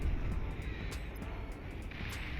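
Spy planes fly overhead in the strategy game Beyond All Reason, a steady, faint engine drone holding at one level throughout, with a few brief soft swells and no talk.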